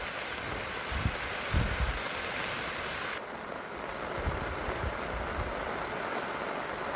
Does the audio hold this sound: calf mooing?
no